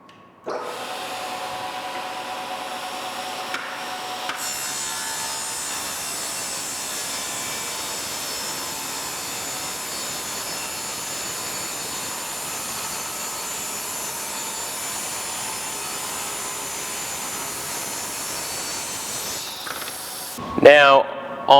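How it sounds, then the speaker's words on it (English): A table saw rips a 2 1/8 inch wooden board using a push stick. The blade's sustained whine runs steadily for about twenty seconds, then winds down. "I just cut this 2 1/8 inch board, and I'm going to be cutting another one out of this piece."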